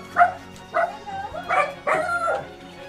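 Dog barks and yips at a shelter in the Philippines, several short bursts spaced across a few seconds, fairly close and moderately loud.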